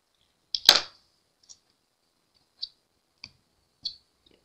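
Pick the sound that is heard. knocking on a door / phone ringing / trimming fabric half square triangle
trimming fabric half square triangle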